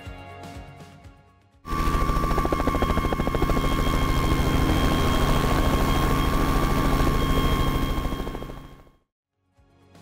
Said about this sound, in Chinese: 然后选择这个 Robinson R44 的音效。